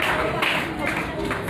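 Applause at a children's church concert, steady clapping from a crowd under continuous talk.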